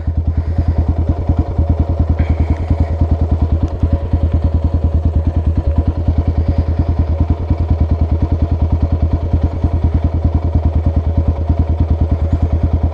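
A Yamaha Raptor 700 ATV engine runs steadily on Rock House trails, a loud, close, rapid single-cylinder thumping that holds through the whole stretch with light clatter and no talk.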